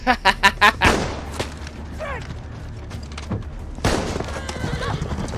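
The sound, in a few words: horse neighing and hooves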